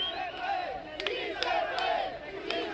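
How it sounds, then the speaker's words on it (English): A crowd of migrants on a riverbank chants and cheers in rhythmic unison, loud overlapping voices rising and falling in repeated bursts. "The migrants on the bank of the Suchiate gasp and cheer as she is lowered to the raft."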